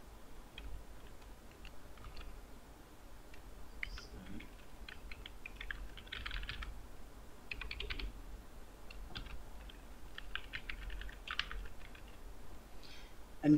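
Typing on a computer keyboard, a quiet steady run of soft key clicks in irregular bursts, close by, with no talking.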